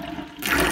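Water rushes down a drain in a small tiny house or camper water system, starting quietly and then surging into a loud, steady gush for under a second.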